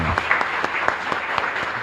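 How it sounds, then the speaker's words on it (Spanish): A congregation applauds for the Lord during a Mass at the Divino Niño Jesús chapel, a steady sustained round of clapping from many hands with a few louder individual claps standing out, and faint voices beneath. "Fuerte aplauso entonces para el Señor."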